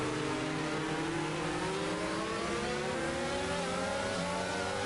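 Formula 2 race cars from F1 22 roar around the Singapore Grand Prix street circuit, a steady loud engine drone with rising harmonic sweeps as the cars accelerate, heard alone without talk.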